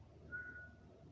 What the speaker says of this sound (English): So this is whistling